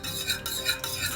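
A spoon stirs and mashes cooked dal from a pressure cooker for sambar in a quick, close scraping burst of a few rubbing strokes against the pot.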